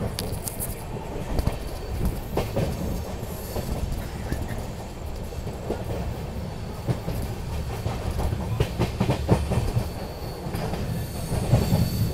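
Inside the Secunderabad Duronto Express as it slowly approaches Rani Kamlapati station, a steady rumble of wheels on rails with intermittent clicks and faint squeals fills the carriage continuously.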